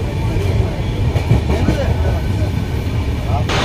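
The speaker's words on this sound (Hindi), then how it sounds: "बहुत लंबी ट्रेन है" A long Indian railway train rolls past close by, with a heavy continuous rumble and rhythmic wheel clatter throughout, and indistinct voices faintly underneath.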